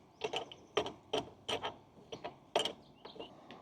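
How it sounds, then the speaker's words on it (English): Wrench working bolts on a solar street light pole bracket: a series of short metallic ratcheting clicks and scrapes in irregular bursts, close by and fairly quiet, with no talking. "And now we're going to tighten these bolts up"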